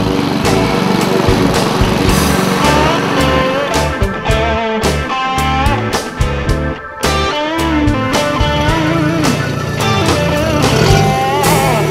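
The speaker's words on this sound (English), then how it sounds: "He mans the lawnmower" A lawn mower runs steadily at a fire station, its engine droning loud and close throughout with a rough, uneven rattle and no break.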